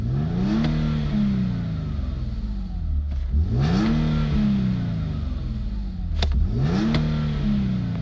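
An Infiniti G37 with Z1 Motorsports long-tube cold air intakes revs three times, each blip climbing quickly and falling back to a steady idle, loud and close, with no voices.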